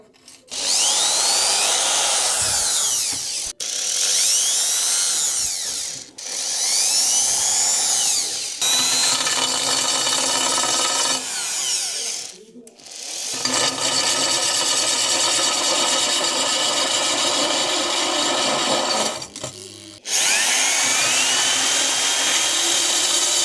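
A diamond core bit grinds a round hole through bathroom wall tile, a loud continuous rasping whine in several long passes separated by brief pauses, with no talking.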